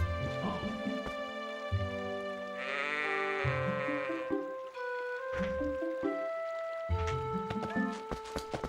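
Goats bleat in The Legend of Zelda: Twilight Princess, with a loud, wavering bleat near the middle set among tonal game sounds that run steadily around it, with no talking.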